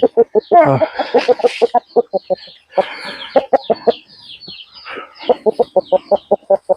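A fighting rooster nearby, 22 to 24 inches tall, gives rapid, rhythmic clucking bursts in quick repeated pulses, loud and close, with short pauses between runs.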